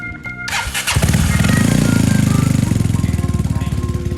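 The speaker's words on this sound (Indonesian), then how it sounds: "Kita cek sound knalpot ya." A modified Vespa LX 150 scooter starts up after a short click, and its exhaust roars loud and close with a rapid pulsing putter, holding a steady throaty rev.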